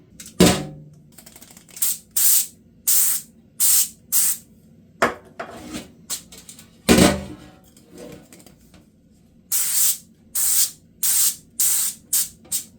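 Cooking oil sprayed onto tin foil in a series of short, sharp hissing bursts, close by, with brief pauses between each spray and a few light rustles of foil.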